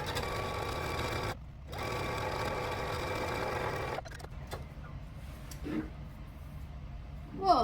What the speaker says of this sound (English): we're gonna sew from this side now all the way down